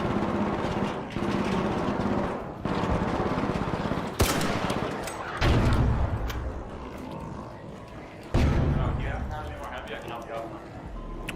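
Rapid bursts of video game gunfire crackle and pop under continuous excited talking, with several sharp loud blasts punctuating steady rattling shots.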